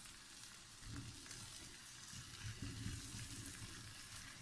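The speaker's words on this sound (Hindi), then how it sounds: "अंडे को इस मसाले के साथ अच्छे से भूनेंगे।" Scrambled eggs frying with masala in a pan, a soft continuous sizzle with occasional stirring scrapes, faint and steady throughout.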